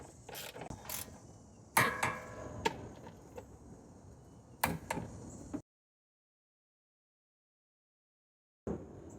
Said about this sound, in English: you can hear it clicks when it's fully torqued